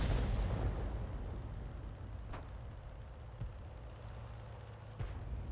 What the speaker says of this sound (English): It certainly seems somebody else is firing at that tank, the Gabler, because yeah, there's fire going in there and it's hitting something.